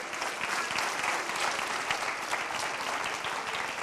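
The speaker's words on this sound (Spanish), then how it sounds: "Dele un aplauso al Señor" A church congregation claps together for the Lord in a dense, even burst of applause lasting a few seconds, with no one speaking over it.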